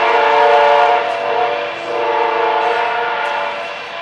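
A train rumbles close by with a loud, sustained tonal drone like a horn or wheel noise, swelling and easing slightly over a few seconds with nothing else audible.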